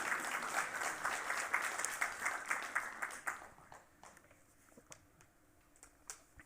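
Audience applause following a poetry reading by Natalie Diaz and Heid Erdrich, a steady roomful of clapping that swells for about three seconds, then thins out into scattered, fading claps.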